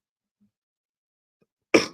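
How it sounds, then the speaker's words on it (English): A single sharp cough bursts out near the end after near silence, short and close, tailing off quickly. "this damn cough better go away"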